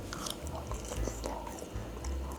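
Crispy air-fried tofu in a tangy, sweet, savory sauce gets bitten and chewed close up, a few crunchy bites followed by steady wet mastication with no talking.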